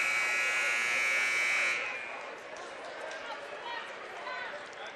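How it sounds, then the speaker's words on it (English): A loud, steady electronic buzzer sounds for nearly two seconds at a high-school district championship basketball game, marking the start of the second half, then cuts off to leave gym crowd noise and commentary. "So there's the buzzer."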